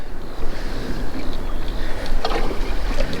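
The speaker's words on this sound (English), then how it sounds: "You can hear the water kind of grinding there." A Native Watercraft Slayer Propel 10 pedal kayak, 2020 model, backing up under its pedal drive, water churning and grinding close by in a steady rough wash with some wind buffeting.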